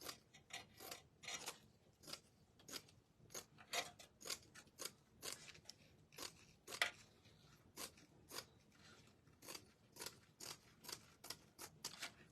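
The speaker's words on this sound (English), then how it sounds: "I'm going to cut this wired part off." Scissors snip through wired ribbon in a long run of faint, crisp, evenly spaced clicks and cuts, one after another, with no speech.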